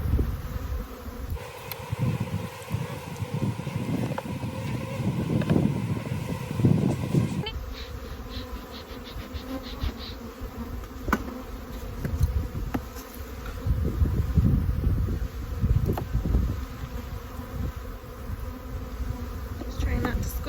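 Honeybees buzzing around an opened hive on a farm, a dense, steady hum close by through the whole stretch, with handling thumps and rustles from working the hive mixed in.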